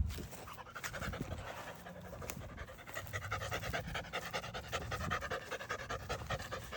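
A French bulldog named Bentley pants rapidly and steadily, close by, in quick, rhythmic breaths that go on throughout with no talking.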